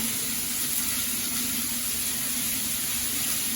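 Onions sautéing in a pan with a little salt for potato masala, a continuous soft sizzle with a steady hiss and faint background hum, no talk.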